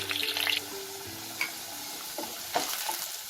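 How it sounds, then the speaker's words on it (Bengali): Diced potatoes fry in a pan in a home kitchen with a soft, steady sizzle, broken by a few light clinks and scrapes of stirring. "এই আলুটাকে আমি লাল করে একটু ভেজে নেব।"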